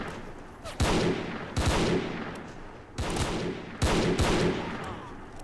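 Heavy gunfire rings out in a World War One video game battle, with four loud booming bursts at uneven intervals, each trailing into rumbling echoes over continuous distant battlefield noise.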